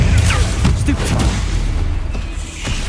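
Stupefy spells are cast in the video game Hogwarts Legacy, loud booming impacts with whooshing bursts over a heavy low rumble. A voice can be heard briefly.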